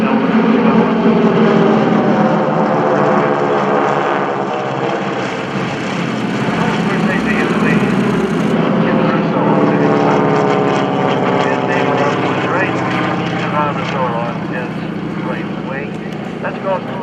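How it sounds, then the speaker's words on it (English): Four North American T-6 Texan propeller planes drone overhead in fingertip formation, a loud layered engine roar that swells and shifts pitch as they pass, with a voice talking over it. "Here comes the first plane overhead, all four"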